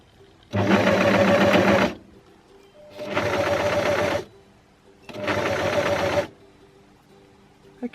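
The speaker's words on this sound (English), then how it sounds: "I'm just going to sew over the previous threads just for about 3 or 4 stitches so that they overlap and lock together" A sewing machine stitches a stretch knit T-shirt in three loud bursts of steady rapid stitching, each lasting about one to two seconds, with short quiet pauses between them and no talking.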